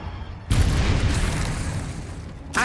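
Confringo blasting spell fired in the Hogwarts Legacy video game during combat: a sudden loud explosive boom with deep rumbling low end that sustains for about two seconds, followed by another sharp burst at the end.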